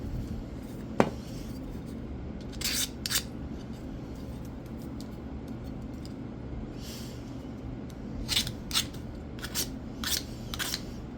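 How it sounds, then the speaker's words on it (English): Scissors with a nicked, scratched blade trim material, giving two brief clusters of faint, crisp snips separated by quiet background hum. "Some of the nicks and scratches are hanging up the blade, making it kind of difficult to trim."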